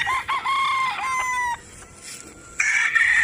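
A Gal Henny Tiger gamefowl rooster crows loudly and close by in a long drawn-out call, followed by a second rooster's shorter crow.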